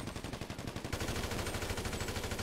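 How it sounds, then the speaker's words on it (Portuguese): Automatic gunfire rattles in rapid bursts during a police shootout in GTA V, loud and continuous with dense overlapping shots, no talk over it. "Tiroteio, mano."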